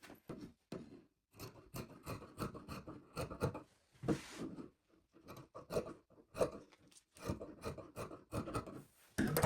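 Scissors cutting hijab fabric along marked pattern lines make a long series of close, quiet rasping snips in uneven bursts with short pauses between, and no one speaks.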